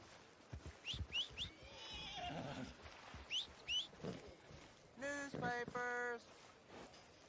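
A horse in the video game Red Dead Redemption 2 snorts and whinnies with clip-clopping hooves, a loud neigh sounding near the end amid several short calls and hoofbeats.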